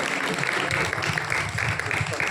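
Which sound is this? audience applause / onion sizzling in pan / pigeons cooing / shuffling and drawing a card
audience applause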